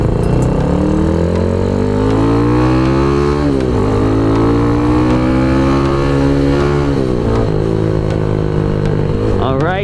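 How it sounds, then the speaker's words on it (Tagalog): A Motorstar Xplorer Z200S motorcycle with a loud exhaust roars up close while riding, its engine note rising and dipping through gear changes and revs without pause. "ang ingay ng tambucho."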